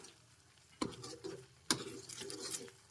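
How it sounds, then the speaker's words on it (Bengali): Ginger-garlic paste, cashew, poppy paste and milk get stirred in a pan, with two sharp utensil scrapes against the metal and soft wet squelching and faint sizzle in between, quiet and close with no voices. "এখন একটু নেড়ে চেড়ে নিচ্ছি"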